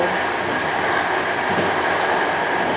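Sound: EIC Kaszub passenger train arriving at Ciechanów station

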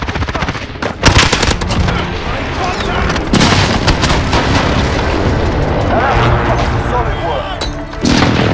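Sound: airstrike explosions in the video game Modern Warfare

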